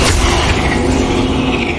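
An Incendio fire spell cast in Hogwarts Legacy, a loud booming whoosh with a low rumble and a steady roaring burn that holds for under two seconds.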